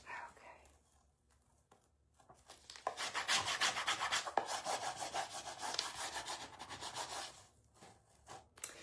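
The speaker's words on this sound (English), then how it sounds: "just lay it back down and keep on burnishing" Steady rubbing and rasping of a tool burnishing a stencil transfer onto a wood sign, a continuous scraping texture from about three seconds to seven, fairly close and moderately loud, with quieter handling before and after.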